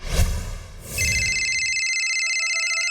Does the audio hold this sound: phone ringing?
yes